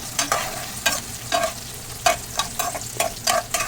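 Fried shing, tengra and baim fish stirred into sizzling spices in a pan, with repeated scraping strokes of a spatula over a steady frying hiss, close and moderately loud.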